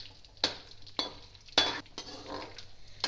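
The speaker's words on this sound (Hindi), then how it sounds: "अब ये मैंने किक्कर का गूंद फ्राई करने लगी, इसमें डाल लो।" Acacia (kikar) gum frying in ghee over a low flame, heard as a soft continuous sizzle broken by several sharp metallic clinks and scrapes of a spoon stirring in the pan.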